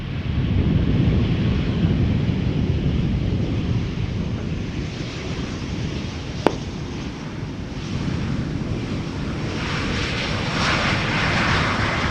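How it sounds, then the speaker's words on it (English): A Croatia Airlines Airbus A319 arriving from Zagreb at Schiphol Airport roars steadily as a loud, continuous jet engine rumble with broad wind-like noise across the whole stretch, heard outdoors with no talk. "And this would be Croatia Airlines arriving from Zagreb, A319."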